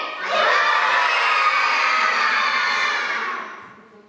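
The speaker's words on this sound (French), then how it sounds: "Je vous ai demandé de crier. Vous avez crié" An audience of children at a December 2018 Christmas stage show in Dolhain, Belgium shouts on request. The loud, massed roar rises quickly, holds for about three seconds, then fades out.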